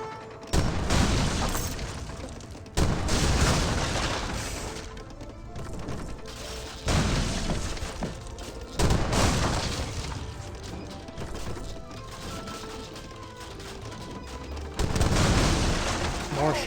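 Cannon fire in an Age of Empires 3 match, Germany against Iroquois, with several heavy booming blasts spaced a few seconds apart, loud and near over a steady battle background.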